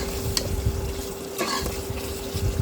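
Egg malai curry masala is stirred in a pan while the oil separates, a soft, even sizzle with occasional utensil scrapes and light knocks against the pan. Nobody speaks.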